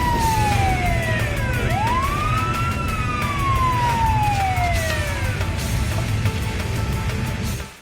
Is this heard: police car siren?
yes